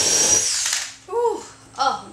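A power drill whines loudly up close while a ceiling fan is installed, with one long run followed by two short revving bursts.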